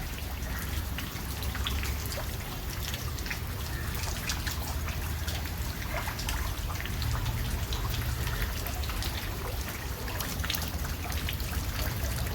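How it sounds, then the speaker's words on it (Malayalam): Heavy rain pours down steadily, a dense, even hiss of drops striking surfaces with trickling water, continuous and unbroken, with no voices. "മഴ വല്ലാതെ കൂടി."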